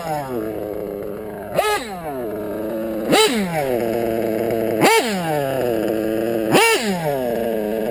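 A small modded REDS R5R nitro engine idles with a buzzing drone, then revs sharply four times at steady intervals, each blip rising and falling quickly, close and loud.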